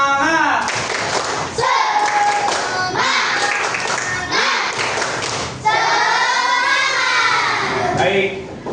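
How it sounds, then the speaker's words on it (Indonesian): A primary-school class performs a rhythmic spirit-clapping chant, sharp group claps and thumps in a patterned beat mixed with children's voices chanting along in a classroom. "Kita tepuk semangat dulu."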